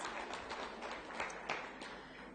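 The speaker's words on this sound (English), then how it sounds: "Can we give them, both the finance and the IT team, a great round of applause?" An audience at a high-level policy panel event claps for the finance and IT team, a steady, moderately faint round of applause from a room of people, with no voice above it.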